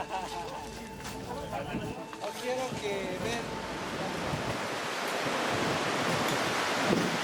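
The Vilcanota River on the Inca Trail rushes as a broad, steady hiss of flowing water that swells louder toward the end, with wind noise, and voices speak over it.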